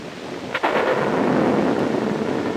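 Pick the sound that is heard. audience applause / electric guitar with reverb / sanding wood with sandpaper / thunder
thunder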